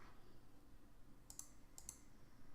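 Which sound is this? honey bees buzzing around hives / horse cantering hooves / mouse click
mouse click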